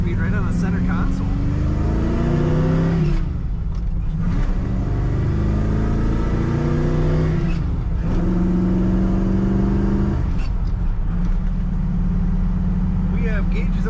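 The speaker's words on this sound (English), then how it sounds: "This Monarch has the most rumble I think I've heard from a car of its type." A 1976 Mercury Monarch with a 4-speed shift sends out a deep, steady engine rumble that swells in three rising revs, each pull climbing in pitch before dropping back, loud and close throughout.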